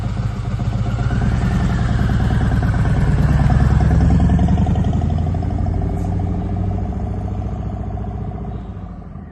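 A Harley-Davidson Sport Glide motorcycle riding along, its engine a loud, steady low rumble with rhythmic throbbing pulses, swelling slightly then easing off as it cruises, with wind noise over the top.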